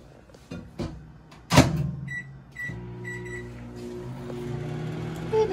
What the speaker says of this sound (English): we're going to put it in the microwave for about 3 minutes